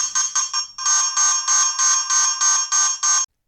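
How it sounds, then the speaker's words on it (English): A loud electronic alarm from a Winees M3 Plus security spotlight camera, a shrill pulsing siren beeping in quick repeated bursts, then longer regular pulses before it stops abruptly. "This will be the sound of the alarm,"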